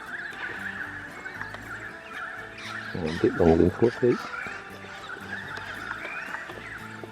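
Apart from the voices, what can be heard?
wild horse near a tent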